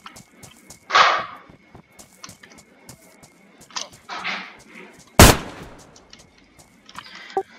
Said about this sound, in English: I fucking just shot them with the shotgun